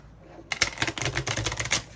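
Oracle cards from a Chakra Wisdom deck being shuffled, a quick run of crisp papery riffling and flicking that begins after a short quiet lead-in, close and moderately loud.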